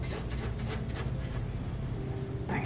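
Gluten-free chocolate chip cookie dough ingredients, with a pinch of nutmeg, scraped around a mixing bowl: a steady, close rasping scrape with rhythmic strokes, continuous and fairly loud.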